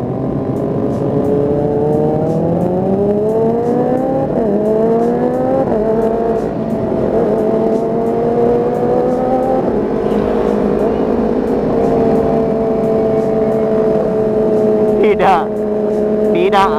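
A Kawasaki ZX25R motorcycle engine revs steadily, its pitch rising and falling in long sweeps, loud and close throughout, with a sharper blip near the end.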